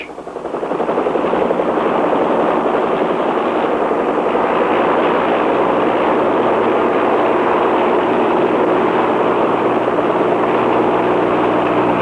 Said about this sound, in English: The copter rises straight up, but now watch.